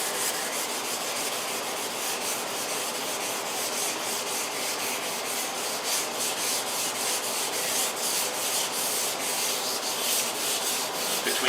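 Continuous abrasive sanding on a Mercedes SLK55 AMG rear spoiler being prepped for repaint, a steady close rasping scrub with no pauses.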